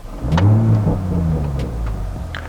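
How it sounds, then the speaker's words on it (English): Engine of a revised 2021 Toyota Supra starting up: a loud close starter catch and rev that swells in the first second, then settles into a steady lower idle rumble. "one thing you're gonna notice right away about this revised 2021 Supra is when we start it up."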